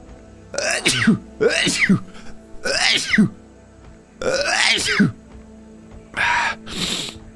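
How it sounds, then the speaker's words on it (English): A streamer playing Ark lets out a series of about six loud, close bursts, each a sharp explosive sneeze-like blast separated by short pauses, with no other sound between. "I'm gonna sneeze"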